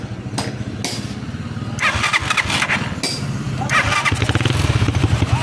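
A Kawasaki KLX 150 motorcycle engine runs steadily with a rough, buzzing rumble, revving up in bursts, close and loud throughout.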